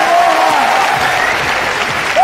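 Arena crowd at a women's UFC bout between Jessica Andrade and Claudia Gadelha applauds loudly after the fight, a dense roar of clapping and crowd noise with brief voice-like tones cutting through.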